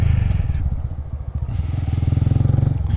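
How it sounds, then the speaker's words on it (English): A Honda Grom motorcycle pulls away in first gear, its close single-cylinder engine putting loud and steady, with rapid even pulses that quicken slightly as the throttle opens. "First gear, and I'm gonna let the clutch go and give it some gas."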